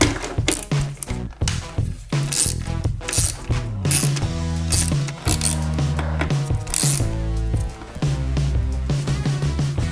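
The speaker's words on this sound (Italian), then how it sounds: "Bussola da 7 e andiamo a svitare le viti per estrarre il filtro." A 7 mm socket ratchet unscrews the air filter housing screws on a Fiat Panda 0.9 TwinAir Natural Power, giving close, loud bursts of rapid clicking with short pauses between strokes, alone without talk.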